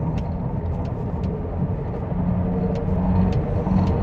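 A Chevrolet Cruze cruising at about 120 km/h in fourth gear at low revs, heard from inside as a steady, even road and engine rumble with no talk.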